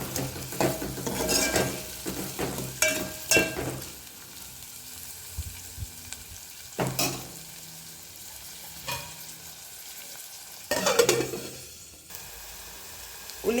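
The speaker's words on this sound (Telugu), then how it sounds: "ఉల్లిగడ్డ వేసిన తర్వాత పచ్చిమిర్చి కూడా వేసేసి కలుపుకొని మూత పెట్టేసుకుందాం." Onions and green chillies sizzle in a pan for a dried prawn and brinjal curry, with busy stirring scrapes at first that settle into a quieter, steady fry broken by occasional spoon strokes.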